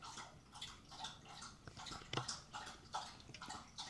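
A dog laps water from a bowl indoors, steady wet lapping and gurgling splashes repeating in a quick rhythm, fairly close and moderately loud with no talk.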